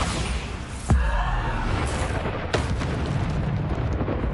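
A Bombarda spell in Hogwarts Legacy bursts with a sharp booming explosion, followed by a second smaller blast amid rumbling game ambience.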